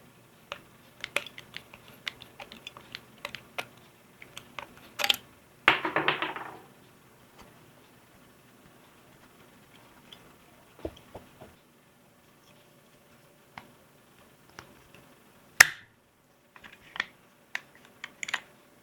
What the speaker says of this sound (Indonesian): Buka side plate di sini